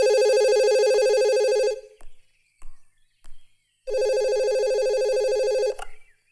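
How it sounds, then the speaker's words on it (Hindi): Old-style telephone bell rings loudly in two long bursts separated by a short quiet gap with faint knocks, set in a Hindi film scene with no one answering. "अरे कितनी देर से घंटी बज रही है, कोई उठाता क्यों नहीं?"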